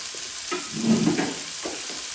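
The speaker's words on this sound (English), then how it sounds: "I browned our little bacon. I'm going to add the onion into that." Onion added to browned bacon fat in a pan, a soft steady sizzle with stirring scrapes swelling briefly in the middle, close and unaccompanied by talk.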